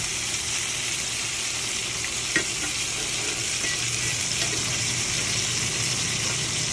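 Butter melting and sizzling in a pan for a sous vide steak: a steady, even hiss of frying fat, fairly loud and unbroken, with one soft knock partway through and no talk.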